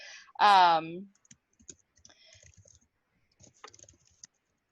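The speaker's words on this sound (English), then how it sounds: "I'm just typing some things so that we have options so you guys can see what will happen when I try to create this." Light keyboard clicks and soft taps from typing on a computer keyboard, scattered and quiet, following a short burst of speech at the start.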